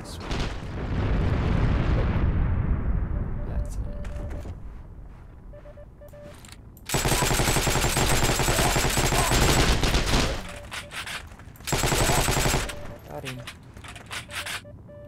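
Sustained gunfire in Heroes and Generals, with long, loud, dense bursts of shooting separated by quieter gaps and a trailing rumble, close and intense, with no speech over it.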